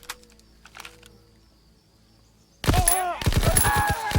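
Gunfire in the Call of Duty video game, a sudden loud burst of rapid shots after a quiet stretch of faint game sounds, followed by dense overlapping cracks and echoing battle noise.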